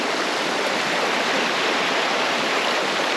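A creek flows steadily on a bush walk along the Hepburn Springs–Daylesford circuit, its rushing water a close, constant hiss with no voices.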